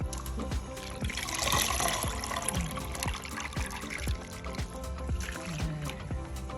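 Mustard greens and red spring onions being washed by hand in a basin of water: steady close sloshing and splashing with repeated soft knocks and drips, no voices.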